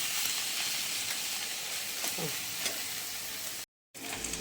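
Spinach fries in a pan with a dense, steady hiss and occasional stirring scrapes, close and loud, cut by a short moment of silence near the end.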